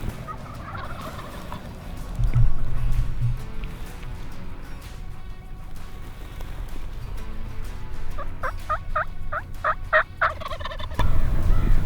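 A wild turkey tom gobbles in a rapid, rattling burst partway through, fairly close, amid outdoor background noise and low rumbling.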